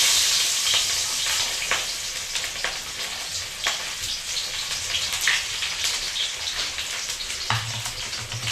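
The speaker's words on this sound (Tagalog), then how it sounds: "Ayan, eto na. Gigisa na tayo." Sautéing in a pan, with a loud, steady frying sizzle and scattered crackles and pops running throughout, close up and without any talk.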